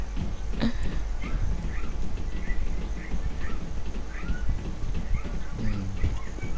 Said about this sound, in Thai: ไอ้พวกไก่เอ้ย